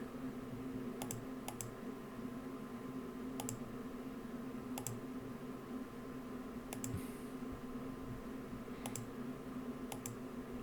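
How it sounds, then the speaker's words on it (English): Computer mouse clicks from someone playing Football Manager 2014, arriving as sparse, sharp single and double clicks spread across a quiet, steady background hum. "clicking around all over the shop"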